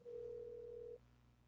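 A single steady telephone call ringing tone, one continuous beep of about a second, faint and alone over a quiet low hum.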